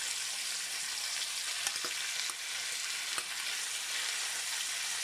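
Saltfish and ackee fry in a pan with a steady, close sizzle and a few soft stirring clicks, continuous throughout with no talking.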